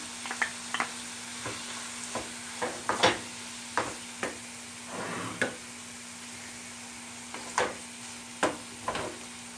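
Minced meat and garlic sizzle steadily in a pan while a spoon stirs them, the soft frying hiss punctuated by repeated sharp scraping strokes at an irregular rhythm.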